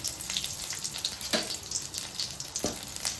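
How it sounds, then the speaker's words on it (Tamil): Steady crackling sizzle of onion and chili tempering in hot oil, with occasional clinks of a utensil against the pan. "நான் என்கிட்ட வெங்காயம் மிளகா இருந்துச்சு, அதை போட்டு தாளிக்கிறேன்"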